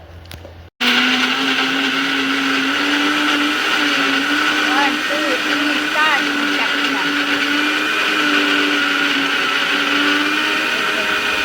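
A mixer grinder suddenly roars to life and grinds mawa for carrot halwa. The loud, steady motor whine and rumble hold without a break to the end.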